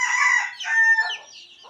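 A free-range country rooster crows close by in a short, bright call, with a hen clucking faintly afterward, at a village poultry setup in Konkan.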